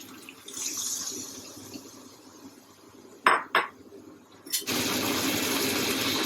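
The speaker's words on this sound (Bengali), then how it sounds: "এখন পরিমাণ মতো জল দিয়ে দিব।" Water poured into a pot of fish curry with eggplant and lentil bori, a quiet clink of metal first, then the steady rushing splash of water filling the pot, no talk.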